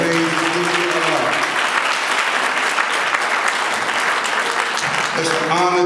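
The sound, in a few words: applause from the audience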